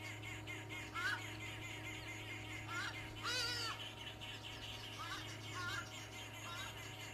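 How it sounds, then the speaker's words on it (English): Bird calling while flying overhead on a morning safari drive in leopard country, several short rising chirps spread across the stretch over a steady low vehicle hum and outdoor background. "if you can ID the bird which is flying above us just from the call"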